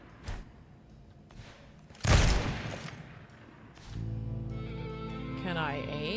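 A gunshot blast with a heavy thud rings out in Hellboy Web of Wyrd, one loud burst standing out between quieter game sounds, followed by a droning hum and rising tonal game effects.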